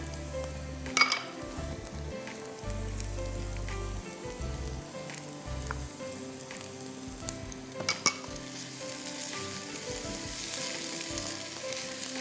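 Chopped onion, ginger and garlic fry in a pan with a steady soft sizzle, broken by a couple of sharp clinks of a utensil against the pan and occasional stirring scrapes.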